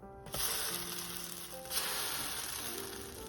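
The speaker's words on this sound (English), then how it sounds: "Let's griddle that up." Pancake batter sizzling on a hot griddle, a steady soft frying hiss that starts suddenly and carries on quietly throughout, with no talk.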